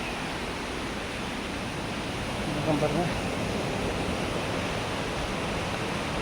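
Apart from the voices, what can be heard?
water flowing near a temple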